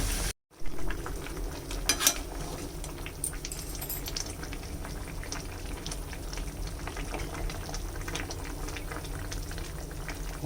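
Chicken and potato curry simmers in a covered pot, with fried potatoes cooking in it on a rainy day. A steady, close bubbling and sizzling runs throughout after a brief gap at the start, with no talk.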